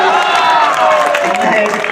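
Audience applause with some cheering at an open-ground poetry recital, a sustained dense wash of clapping from a large crowd, fairly loud and continuous through the whole moment.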